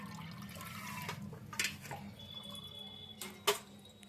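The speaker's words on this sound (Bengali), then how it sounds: "এবার দেখুন আমি এই ছাগনিতে ছেঁকে নিচ্ছি" Dirty water from washing whole spices pours through a sieve, with soft trickling and dripping, a couple of sharper splashes and a low steady background hum, close and fairly quiet.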